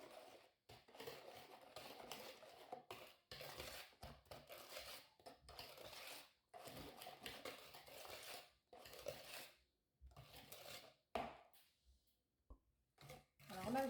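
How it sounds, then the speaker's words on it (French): A spoon works almond shortbread dough and honey in a bowl, making repeated soft scraping and knocking strokes in short uneven bursts. It stays quiet throughout, and a voice talks at times. "Et je mélange tout ça."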